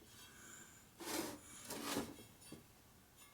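Rim on a 1965 Harley-Davidson Panhead FLH with a 74 ci motor rubs against something as it turns, giving faint, close scraping swishes in a few uneven passes.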